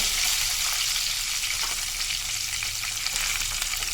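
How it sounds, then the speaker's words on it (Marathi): Mustard seeds, cumin, curry leaves and green chillies sizzle in hot oil with a steady, dense, close crackling hiss that runs throughout without a break. "तेल व्यवस्थित गरम झालं आपलं. त्याच्यामध्ये राई, जिरं, कढीपत्ता, मिरच्या,"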